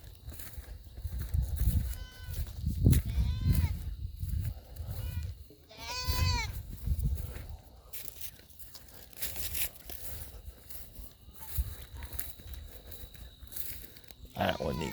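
Goats bleat in a farm shelter, several loud wavering cries at intervals over rustling, footsteps and handling noises nearby, with a person speaking now and then.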